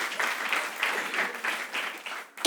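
Audience applause, a brisk patter of many hands clapping together, moderately loud and steady before fading out at the end.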